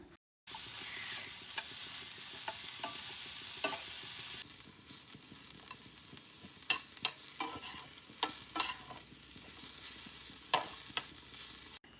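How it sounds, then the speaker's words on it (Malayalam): Brinjal (eggplant) sautéing in oil in a pan, a soft continuous sizzle broken by scattered stirring scrapes and clicks of the spoon, fairly quiet and close with no talking. "ഇനി ഇത് നന്നായിട്ടൊന്ന് വഴറ്റിയെടുക്കാൻ പോവുകയാണ്"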